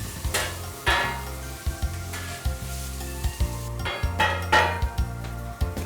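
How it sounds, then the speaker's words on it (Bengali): Chicken godamba roti being mixed with egg, homemade chili paste and curry sauce on a hot griddle: loud continuous sizzling cut by rhythmic metallic clanks and scraping of the mixing, close up and with no talk. "এখন মিক্সও করতে হবে সব কিছু"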